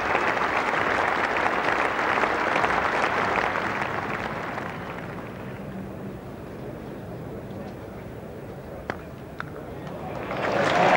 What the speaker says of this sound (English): getting a tremendous reception from this full house crowd at Lord's